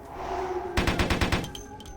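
Rapid gunfire from a firearm in Vampire: The Masquerade – Bloodlines, a quick burst of about eight sharp shots in a row following a steady background tone, close and loud.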